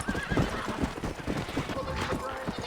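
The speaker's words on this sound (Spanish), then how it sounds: "H para llamar al caballito. Ahí viene nuestro caballo, que grande." Horse in the Red Dead Redemption video game whinnying loudly near the start, then hooves clip-clopping closer in a steady rhythm, with a second neigh later over busy background game sound.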